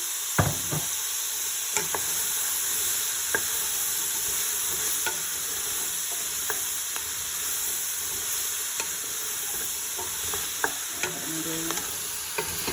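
Cubed potatoes sauté in olive oil in a pan for a creamy potato pesto soup, a steady close sizzle broken by scattered clicks and scrapes of stirring, with no voices.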